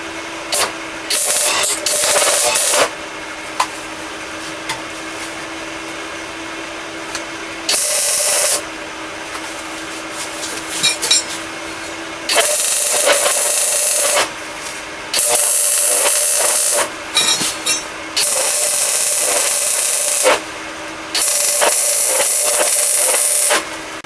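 Welding steel cross braces and bolt heads for a heater install, loud sustained crackling hiss in repeated bursts of a few seconds each, separated by short pauses, close and without talk.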